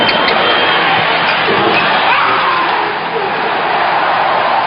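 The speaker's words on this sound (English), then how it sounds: "Now listen to crowd reaction on this spectacular Rider pass." A basketball arena crowd roars steadily and loudly for a spectacular pass by Isaiah Rider, a dense, sustained wash of cheering that dips slightly near the end.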